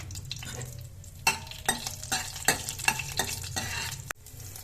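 Sliced green chillies fry in hot oil with cumin seeds, a continuous close sizzle broken by repeated scraping strokes of a spoon stirring the pan.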